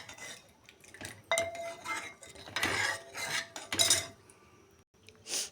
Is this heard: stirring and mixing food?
yes